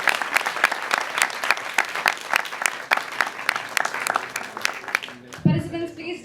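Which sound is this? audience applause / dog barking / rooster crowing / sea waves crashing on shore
audience applause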